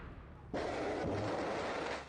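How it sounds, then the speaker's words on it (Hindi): An Iranian Emad or Qadr medium-range ballistic missile launches with a sudden roaring blast that cuts in and holds as a loud, broad, sustained rumble over a faint background hiss. "ईरान ने इमद और कद्र नाम की मिसाइल लॉन्चिंग का वीडियो जारी किया है।"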